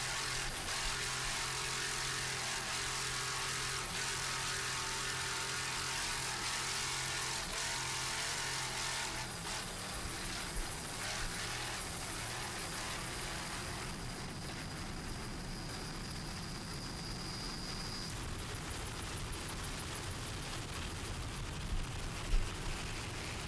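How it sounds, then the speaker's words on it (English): Twin engines on a classic 27-foot Magnum powerboat drone loud and constant through an offshore race off Ocean City, Maryland, a broad roar that shifts in tone partway through as the boat passes. "Jerry Mimoli doing a great job on the throttles in this classic 27-foot Magnum"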